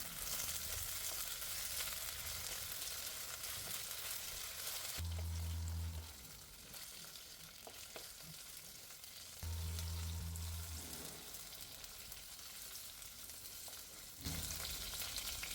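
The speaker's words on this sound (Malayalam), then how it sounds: "ഇനി ഇതിലേക്ക് അരിഞ്ഞു വെച്ചിട്ടുള്ള വെണ്ടക്കായിട്ടൊന്ന് മാട്ടിയെടുക്കാം" Chopped okra sautéing in two spoons of coconut oil, a loud, dense close-up sizzle that drops away twice for several seconds and then returns, with faint stirring in the quieter stretches.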